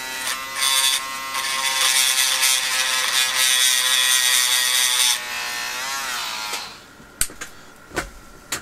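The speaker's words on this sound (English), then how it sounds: "use my little Dremel tool, and I've roughed up the surface" A small Dremel rotary tool roughs up a metal surface on a box mod build, a loud close high-pitched whine for about five seconds that winds down, followed by a few sharp clicks and taps.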